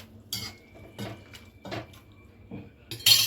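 A utensil stirs leftover chapati pieces in a pot of boiling water, giving four or five separate scraping, clinking strokes against the metal pot, fairly close and moderately loud, with a sharper clatter at the end.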